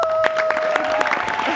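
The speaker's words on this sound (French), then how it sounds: "Je vais applaudir pour vous." Short burst of audience applause in a TV studio, clapping close and fairly loud over a steady background tone, with voices mixed in.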